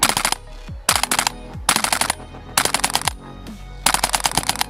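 A WE G39C gas blowback airsoft rifle fires five rapid full-auto bursts, each a sharp, loud mechanical rattle of clattering shots with short pauses between them.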